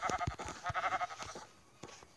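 Sheep in a hardcore survival video game give several short, nasal bleats in quick succession, fairly close and clear, with the calls thinning out toward the end.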